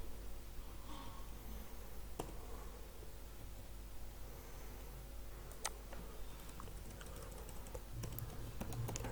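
Someone typing HTML list items on a computer keyboard, with steady soft key clicks under a low hum and a few sharper taps spread across the stretch.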